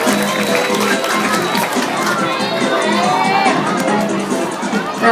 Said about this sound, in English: have another round of applause for our bottlenose dolphin